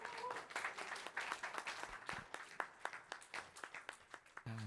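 A church congregation applauds to welcome a missionary speaker, with many overlapping claps at a moderate, fairly distant level that thin out toward the end.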